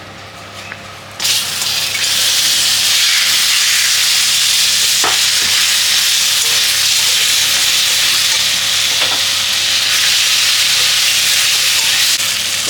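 Fried fish heads go into dal cooking in a pan, giving a loud, steady sizzle and frying hiss that runs throughout, with a couple of brief stirring clatters against the pan.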